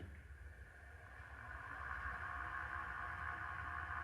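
A wood lathe spins steadily while hollowing a black walnut piece, a constant mechanical hum and whine that swells slightly as it speeds up, near and continuous with no talk.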